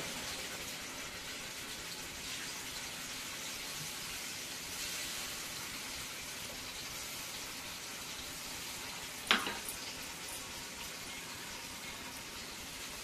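Ground spice paste hits hot oil in a heated kadhai while thapi vadi is being made, giving a steady, even sizzle that continues throughout, broken by a single brief clink near the end.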